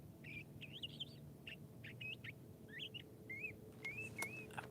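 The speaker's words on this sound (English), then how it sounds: "That bird." A songbird sings outdoors on a morning, repeating short whistled chirps and trills in quick phrases over a steady low background hum, fairly close and clear.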